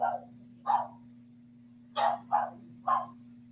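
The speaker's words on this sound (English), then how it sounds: "that's why she's barking, because we put her in the other room" A dog shut away in another room barks five times in two loose bursts, muffled and moderately distant, over a steady low electrical hum.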